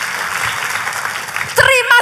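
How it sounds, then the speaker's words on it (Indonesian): Church congregation applauding for Jesus during a sermon, a steady wash of clapping throughout that grows louder near the end as a voice speaks over it. "kalau mau tepuk tangannya yang paling meriah buat Yesus Tuhan kita"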